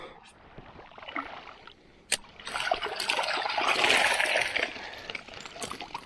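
Balls of feeder-fishing groundbait, made for catching roach, are thrown from the bank into the Horyn river. They land with a sharp splash, followed by a longer wash of churning water that fades out.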